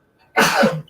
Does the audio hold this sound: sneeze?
yes